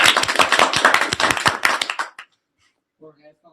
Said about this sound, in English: You have to get your round of applause.